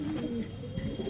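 Cooing of a pigeon, a female white-collared (kallo) pigeon, low and fairly close in a hot outdoor setting, a soft continuous murmur through the whole short stretch with no talk.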